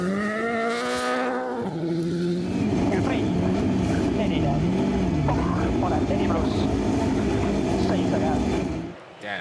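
A BMW rally car at Rally Latvia 2024 slides past with a loud, revving engine, pitch rising and falling under gravel noise, heard over continuous voices talking.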